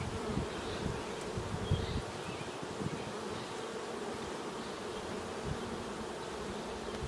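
A dense, continuous hum of many honey bees buzzing close by at a queenless hive, steady and droning with occasional louder individual passes, no voices.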